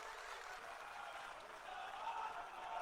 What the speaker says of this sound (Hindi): नितिन नवीन जी का एक बार जोरदार ताली बजाकर स्वागत कीजिए साथियों